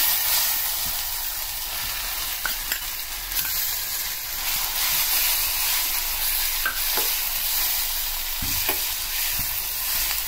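Tamarind leaf paste frying in hot oil, sizzling steadily throughout while a spoon stirs and scrapes the pan, with occasional sharper clinks and scrapes; no talking.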